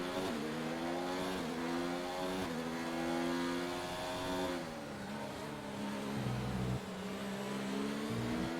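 A Formula 1 car in F1 2019 at Barcelona slides with oversteer on soft tires, its engine droning loud and close, pitch rising and dipping through the corners.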